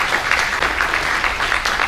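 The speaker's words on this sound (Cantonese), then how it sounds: "等我哋再一次以熱烈嘅掌聲歡迎佢哋今日嘅蒞臨。" An audience claps warmly at an inauguration ceremony for a university computer society in Hong Kong, a dense, even patter of many hands heard from a moderate distance, steady throughout with no voices.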